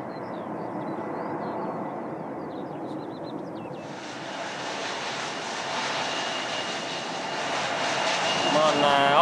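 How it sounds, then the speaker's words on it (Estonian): An airplane passes over an aviation unit's airfield, a steady engine roar that grows gradually louder toward the end, with a brief chirping near the start. "Siin saab siis mööduvaid lennukeid jälgida"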